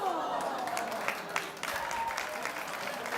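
Studio audience applause on a daytime talk show, a busy sustained clatter of clapping with some crowd noise, while a host's voice and music-like tones run over it at times.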